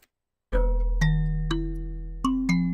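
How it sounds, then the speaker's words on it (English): Mbira sample triggered in a music production program, five plucked metallic notes with bright attacks and ringing sustain over a deep low drone, close and clear with no talk. "Let's grab a Mbira sample."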